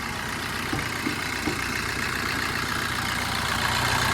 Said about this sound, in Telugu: మన ఇంజన్ అయితే ఆన్లోనే ఉంది.